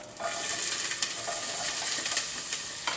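Onion frying in oil, a close, continuous bright sizzle with soft stirring scrapes and light utensil taps throughout.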